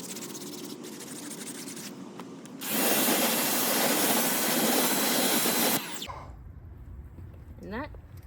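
A wheel brush scrubs a car tire and wheel during winter detailing, a loud steady broadband scrubbing roar lasting about three seconds mid-clip, preceded and followed by quieter rubbing and handling noises.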